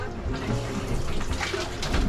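Continuous gushing and trickling of fresh water from failed tanks pouring into a boat's bilge, steady and close, with a faint low hum beneath.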